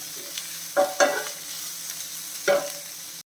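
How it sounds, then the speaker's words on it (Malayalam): Onions sautéing with ginger-garlic paste in a pan for paneer masala, a soft steady sizzle broken by a few distinct spoon scrapes and stirring knocks, with no talking. "അപ്പോൾ നമ്മുടെ സവാള വഴണ്ടിട്ടുണ്ട് ഇത് തക്കാളിയും കൂടെ ഇട്ട് കൊടുക്കുന്നേ ചേർത്തിട്ട് നല്ല രീതിയിൽ ഒന്ന് വഴറ്റണം"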